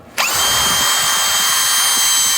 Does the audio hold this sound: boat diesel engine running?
no